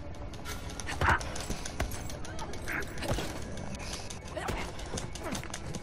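Horses gallop in Uncharted: The Lost Legacy, a dense run of hoofbeats with occasional whinnies that stays loud and continuous under busy game noise, while someone speaks over part of it.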